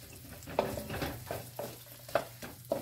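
Onions fry in butter in a pan before shrimp are added, a soft low-level sizzle broken by several light stirring knocks and scrapes of a utensil, with no one talking.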